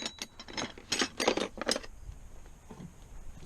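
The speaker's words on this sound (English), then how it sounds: "because we have the Tubliss, we're gonna tighten our rim lock" Rim lock on a dirt bike wheel fitted with a Tubliss system being tightened, giving a quick run of metallic ratcheting clicks in bursts, then quieter handling noise.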